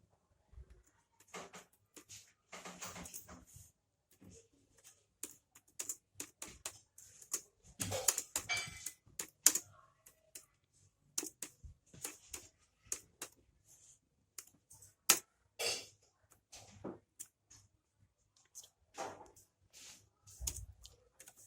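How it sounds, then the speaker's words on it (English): Typing on a computer keyboard into a word processor, irregular bursts of quiet key clicks with pauses, close and alone without speech. "From here, we do typing."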